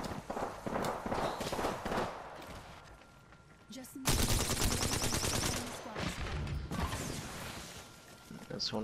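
Apex Legends gunfire crackles in dense automatic bursts, loud and rapid, with a short lull before a long sustained volley of shots.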